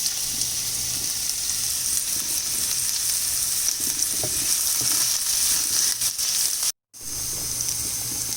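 Onions frying in a pan over a medium flame, a steady close hissing sizzle with faint occasional stirring, cut by a brief dropout near the end.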